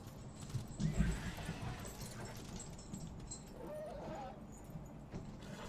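A horse in a video game gallops with quick clip-clopping hooves, fairly faint and mixed with other game sounds in the background.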